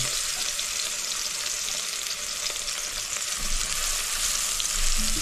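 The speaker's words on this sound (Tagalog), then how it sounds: "ating hintay lang tayo para mag-golden brown yung sibuyas at bawang mga kautol" Onion and garlic frying in hot oil toward golden brown give a dense, continuous sizzle and crackle, close and steady throughout with a faint low rumble, no talking.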